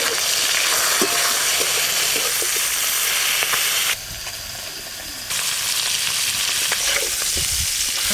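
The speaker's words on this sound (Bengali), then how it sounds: "তোকে তো ইলিশ মাছের মাথা ভাজতেছি, খুব সেন্ট উঠেছে রে।" Hilsa fish heads with turmeric and salt fry in hot mustard oil, making a loud, continuous close sizzle with occasional stirring clatter and a brief dip in intensity midway.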